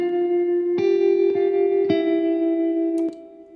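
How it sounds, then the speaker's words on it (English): Electric guitar notes ringing through a stereo spring reverb, a sustained chord with a few re-struck attacks that bloom into a wide, warm wash before fading near the end, with no talking. "I'll add this stereo spring reverb in the mix, and it just gives it this little extra width"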